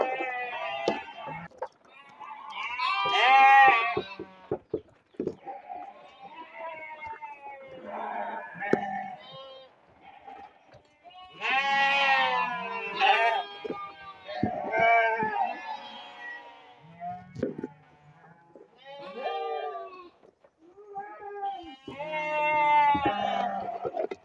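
Several sheep bleating repeatedly while feeding on cheap livestock feed made from palm oil solids and tofu waste, loud overlapping cries at close range with short pauses between bursts, no talking.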